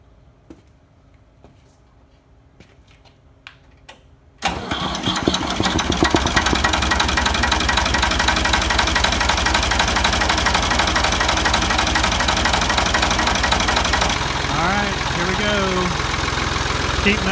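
Ford 2000 tractor engine cranks and catches after a few seconds of quiet, then settles into a loud, steady, knocking diesel-style idle that runs on continuously at close range.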